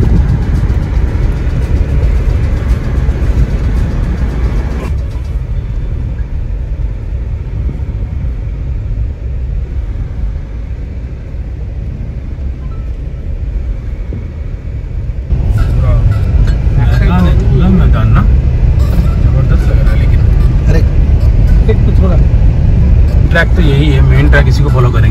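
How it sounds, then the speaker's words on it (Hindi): A car drives along a rough off-road track through a forest, heard from inside as a loud, steady engine and road rumble that eases briefly midway. People talk over the noise. "कोशिश करते हैं कि देखते हैं गाड़ी कहां तक जाती है"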